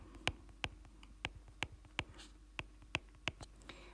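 A pen writing out a numeral on paper in a quiet room, with a series of about ten sharp, evenly spaced ticks and taps of the nib, faint and close, with no voice.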